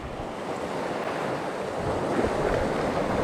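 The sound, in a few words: wind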